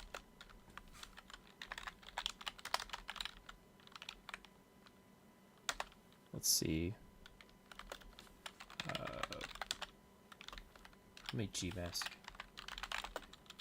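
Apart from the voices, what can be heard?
computer keyboard typing picked up by stream microphone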